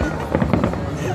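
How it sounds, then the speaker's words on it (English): Fireworks explode at Lake Tahoe with a short cluster of muffled booms and crackles, while voices murmur in the background. "I'm watching fireworks for most of mine."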